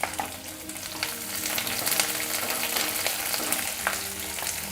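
Onions frying in a pan for a soybean curry give a loud, dense, continuous crackling sizzle, with faint stirring scrapes, heard alone throughout.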